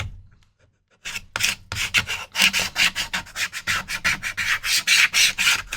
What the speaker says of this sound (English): I'm just gonna use my Cricut scraper here to kind of clean this off.